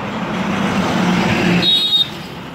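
Cars speeding along a road, a steady loud rush of passing traffic noise that swells and then eases as a vehicle goes by close to the microphone, with no voices.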